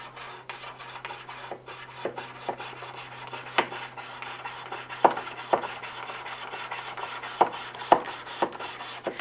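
A 1911 pistol ejector is lapped by hand with Wheeler 600 grit lapping compound, giving a soft, continuous gritty rubbing with occasional faint sharper ticks, close and quiet with no talking.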